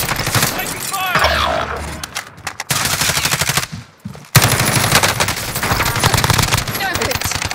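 Rapid automatic gunfire in a shooter video game, loud and close, coming in repeated bursts with brief gaps and one short silence, mixed with game effects and voice chat.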